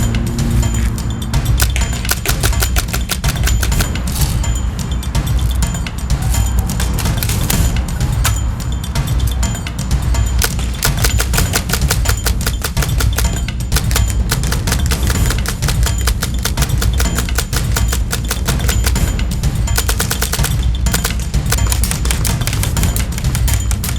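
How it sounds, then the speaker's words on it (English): A Tippmann M4 HPA airsoft rifle fires on an outdoor range in a loud, unbroken stream of rapid, sharp clicking shots that goes on without pause. "Time to take the Tippmann M4 to the range and plink away."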